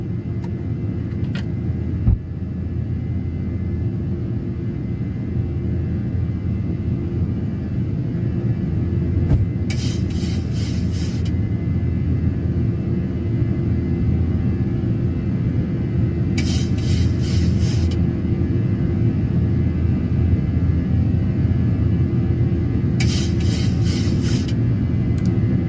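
Boeing 737 climbing out after takeoff in a PMDG flight simulator, a steady loud low engine rumble and roar filling the whole stretch, with three brief high periodic chime-like bursts partway through.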